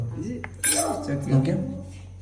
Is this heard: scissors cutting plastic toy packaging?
no